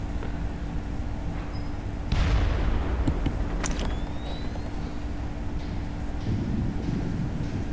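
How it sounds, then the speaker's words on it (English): A loud explosive boom bursts out over steady game-like background rumble at an oil refinery in Splinter Cell, followed by a few sharper cracks and continuing low noise. "But soon there's gonna be an explosion."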